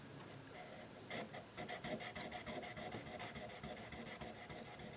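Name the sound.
rubbing guitar frets with folded 1200 grit sandpaper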